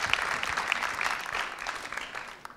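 An audience claps in a steady round of applause at a couples' contest show, fairly distant and soft, tapering off toward the end with a couple of faint whistles early on.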